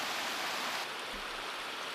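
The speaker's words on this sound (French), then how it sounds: "l'eau surgit de terre en bouillonnant" Spring water bubbling up from the ground into a basin at the Gouille de Salins near Tignes, a dense steady rushing and gurgling wash, close and continuous with no voices.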